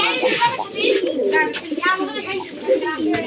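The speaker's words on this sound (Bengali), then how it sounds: "এই যে দেখেন সুস্থ সবল কবুতর" Close, repeated soft cooing from high-flying black-tailed pigeons, rolling and overlapping, with someone talking over the birds.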